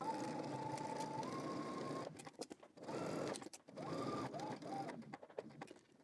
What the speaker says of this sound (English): we're gonna go ahead and stitch using 5/8 of an inch seam allowance